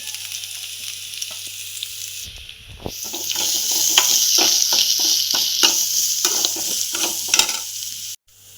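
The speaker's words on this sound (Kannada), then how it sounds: "ಇದು ಚೆನ್ನಾಗಿ ಫ್ರೈ ಆಗಲಿ" Egg pepper fry sizzles loudly in a hot pan, a steady frying hiss with repeated scrapes of stirring throughout and no talking.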